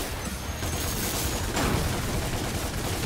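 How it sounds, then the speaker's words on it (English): Continuous gunfire in Devil May Cry, a dense unbroken stream of rapid shots without pause, loud and close, forming a steady roar. "And there's no reloading. You just keep shooting."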